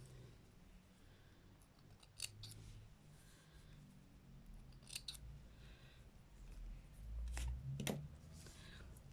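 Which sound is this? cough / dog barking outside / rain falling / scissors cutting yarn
scissors cutting yarn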